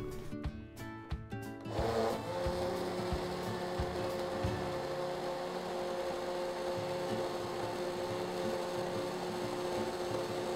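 An electric grinder blending a homemade tomato ketchup mixture, a short start-up rattle giving way to a steady, loud motor whir and churning that runs on without a break.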